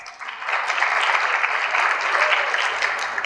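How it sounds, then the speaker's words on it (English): A conference audience keeps up a full, even round of applause for themselves, a steady wash of many hands clapping, swelling slightly after the first half second and holding loud throughout. "I want you to give yourselves a round of applause."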